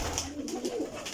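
A breeder's champion pigeon, a golden Teddy, cooing close up in a short burst of soft, throaty coos with no talk.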